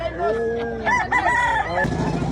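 Rooster at a chicken expo in Consolacion, Cebu gives one full crow, close and loud, with brief clucks and background crowd chatter around it.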